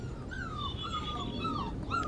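Goldendoodle puppies whimper while playing, a series of thin, high, wavering whines repeating close by over a steady low background rumble.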